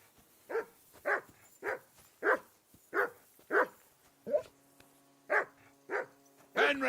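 A dog barking in the video game Kingdom Come: Deliverance 2, about ten sharp barks at a steady rhythm, fairly close, with a faint voice briefly beneath one of them.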